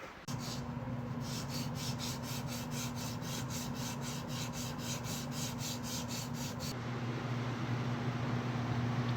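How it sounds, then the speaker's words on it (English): Power sander working a red birch laminate carving with 80 grit, a loud continuous abrasive hiss and rasp with a steady motor hum, pulsing rhythmically through the middle stretch. "I've now finished sanding, power sanding with 80 grit."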